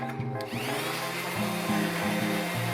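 Steady mechanical whir of a power sander running continuously over wooden boards, with slight changes in pitch as it moves, close by with no voices.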